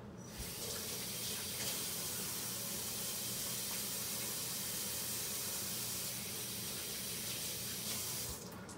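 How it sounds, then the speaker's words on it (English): A home kitchen dishwasher runs with a steady, continuous rushing water hiss that holds evenly throughout, close and moderately loud. "I have the dishwasher running."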